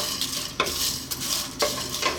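Cumin, cardamom and fenugreek seeds for an Omani bezar spice mix are dry-toasted and tossed in a hot pan, making soft rattling scrapes with a few sharper stirring strokes over a faint crackle.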